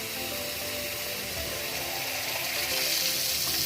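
Water runs and swirls steadily down a bathroom sink drain after a refitted stopper is released, a continuous close gurgling rush with no talk over it.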